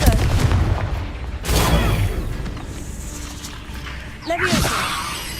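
The Confringo fire spell is cast in the video game Hogwarts Legacy, giving loud explosive blasts near the start and around the two-second mark, then a later burst with whooshing magical tones. Game voices shout spell names throughout.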